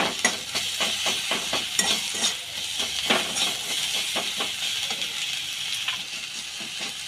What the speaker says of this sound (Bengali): এবার আমি ভালো করে ভেজে নিচ্ছি